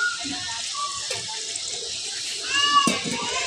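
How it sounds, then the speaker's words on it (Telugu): Water pours steadily into a pot of cooking eggplant and chicken curry, a continuous splashing rush with faint voices in the background. "సరిపోయినంత నీళ్ళు పోసుకోవాలి"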